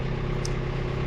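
A tractor engine idles nearby with a steady, low, continuous drone that holds even throughout, with no voices over it.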